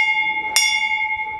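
An antique fire engine's bell, one bright metallic strike with a long clear ring that keeps sustaining after the hit, loud and close with no talking.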